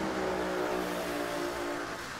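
A funny car drag racer's engine roars loud and close in a sustained, steady blast, its pitch holding level with a slight fade toward the end, with no voices over it.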